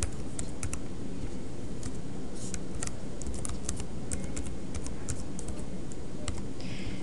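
Computer keyboard typing a chart title in Excel, light irregular key clicks in short runs over a steady hiss, close and fairly quiet, with no talking.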